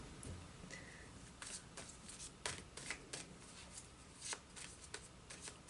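Soft, papery riffling of tarot cards being shuffled, quick bursts of flicking and sliding repeated at close range, fairly quiet.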